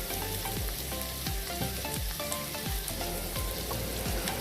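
Onions sizzle steadily in a hot pan while garam masala and chili powder go in for a mushroom tikka masala, a loud, continuous frying hiss broken by repeated scraping stirs, with no voices.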